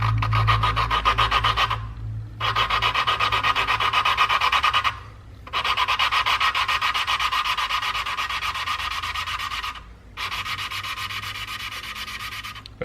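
An engine valve spun back and forth with lapping paste against its seat in a cylinder head makes a steady gritty rasping, in long strokes broken by short pauses, close and loud.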